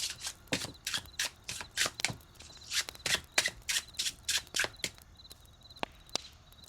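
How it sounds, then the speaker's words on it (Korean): A tarot card deck being shuffled by hand in steady, brisk riffles and snaps, close and clear, repeating for several seconds with no talking. "여러분이 골라주신 이 카드 덱으로 여러분의 10월 운세를 이어서 뽑아볼게요"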